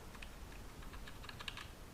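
Computer keyboard keys are pressed in quick, light taps close to the microphone while adjusting gain settings in car-audio DSP processor software, making a soft, steady clicking with no talking.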